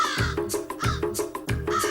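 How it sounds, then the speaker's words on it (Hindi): Several crows caw repeatedly in a rough, rhythmic chorus as they take flight, loud and close in an animated Akbar and Birbal story scene. "तेरे चीख से कौवे उड़ गए"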